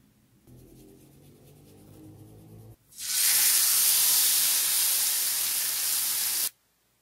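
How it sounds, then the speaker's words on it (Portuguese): Beef fillet hitting an oiled frying pan with sugar bits, a low rumble giving way to a sudden loud, steady hissing sear that holds for several seconds and then cuts off. "Agora eu vou colocar um pouco de óleo numa frigideira com os farelinhos de açúcar e vou colocar o filé"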